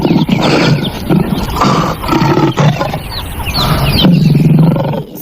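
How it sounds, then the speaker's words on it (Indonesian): A lion's deep roars and growls fill the space, loud and sustained across several bursts with a rough, throaty texture, heard alone without any talking. "Widih, seekor singa."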